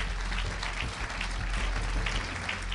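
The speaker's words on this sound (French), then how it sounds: "On les applaudit tous." Dense, steady audience applause fills an awards ceremony hall, a continuous wash of clapping from a large crowd with no breaks.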